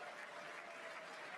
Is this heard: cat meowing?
no